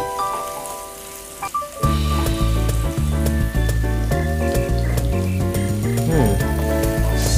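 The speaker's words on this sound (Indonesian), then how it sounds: "kita akan masukkan cabai merahnya. Oke, diaduk-aduk kembali." Red chili being stir-fried with shrimp and bitter gourd in oyster sauce, a steady pan sizzle running throughout beneath loud melodic background music.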